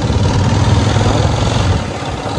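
A motorcycle engine runs steadily and loudly on a dry road, a continuous rumbling drone with broadband rushing noise that eases slightly near the end.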